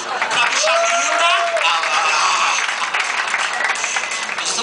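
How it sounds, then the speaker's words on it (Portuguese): Studio audience applause on a Sunday TV variety show, a dense clapping wash heard under lively talk and a voice with gliding pitch, holding steady for the whole stretch. "Vamos aplaudir a bicha linda."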